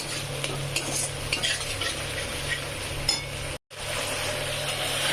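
Blended tomato paste frying in oil in a pan, a constant sizzle under continuous spoon stirring and light clinks, close and steady, broken by one very short gap.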